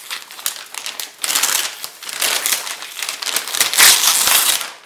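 A utility knife slices open paper packaging while a new DJ controller is unboxed, giving close, continuous crinkling and crackling that swells and fades in bursts, with no voices.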